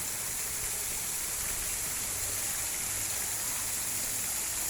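Water pouring steadily down an artificial waterfall built from stacked sandstone rocks, a continuous close hiss and splash with no break and no voices.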